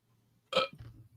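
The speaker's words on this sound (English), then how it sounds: "I'll belch for you." A single short, loud belch from a person bursts out over near silence, followed by a faint low trailing rumble.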